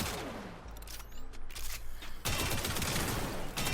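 Gunfire from a weapon in Warframe crackles in a dense burst of rapid shots, pauses briefly, then erupts again into loud, sustained firing.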